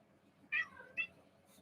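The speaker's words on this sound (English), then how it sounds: "Cat wants attention." A house cat meows twice in quick succession, short clear calls close to the listener over a faint room background, with no talk while it calls.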